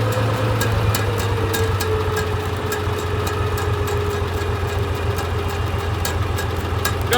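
A Farmall 706 tractor engine with a misfire idles steadily and loudly up close, a continuous low rumble with a constant mechanical hum and no talking.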